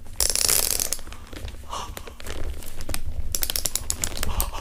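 Plastic zip ties for wrapping Christmas presents crinkle and ratchet with rapid clicky bursts, close and loud, mixed with packaging rustles and no talk.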